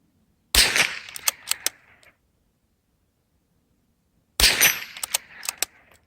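Two sharp bolt-action rifle shots a few seconds apart during a practice drill, each a loud crack followed by a brief echo and the clatter of the bolt being worked, with quiet between them.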